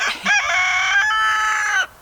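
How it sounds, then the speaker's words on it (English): A rooster crows once, loud and close on a frosty morning, a long drawn-out call that rises and holds before cutting off abruptly, with quiet surroundings. "Good morning, Mr. Rooster."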